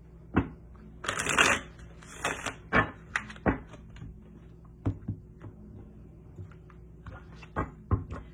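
Two decks of cards being shuffled up close for a tarot reading: a riffling burst followed by scattered taps and shuffles, irregular and crisp against a quiet room.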